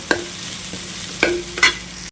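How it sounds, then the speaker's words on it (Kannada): Curry leaves dropped into a pan of frying onions for chicken pulimunchi, giving a steady low sizzle broken by a few sharp crackling bursts as the leaves hit hot oil, close and fairly loud, ending abruptly. "ಈಗ ಇದಕ್ಕೆ ನಾನು ಸ್ವಲ್ಪ ಕರಿಬೇವಿನ ಎಲೆ ಎಲ್ಲ ಹಾಕ್ತಾ ಇದ್ದೇನೆ"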